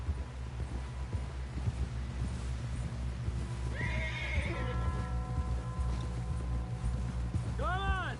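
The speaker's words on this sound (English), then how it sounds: "Someone help John down off this horse" Horse in the Red Dead Redemption 2 video game neighs twice with rising whinnies over steady clip-clop hooves and a low rumbling background, while someone talks.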